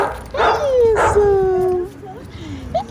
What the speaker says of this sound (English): We got a puppy.